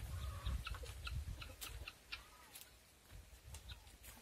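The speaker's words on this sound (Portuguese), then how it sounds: "Já tá botando a ração pra galinha." Chickens on a farm cluck and squawk repeatedly while being given feed, a busy overlapping chorus of short calls over low rustling and scratching, fairly close and moderately loud.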